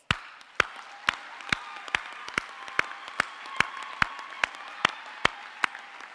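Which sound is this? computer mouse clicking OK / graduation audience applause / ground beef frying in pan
graduation audience applause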